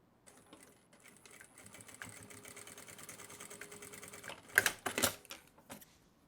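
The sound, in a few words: sewing machine stitching a bag strap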